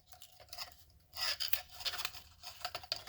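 Adhesive tape is torn off a roll and pressed down while covering sections of a paper wall: crackly ripping bursts and rubbing scrapes close by, in an irregular run, with no talking.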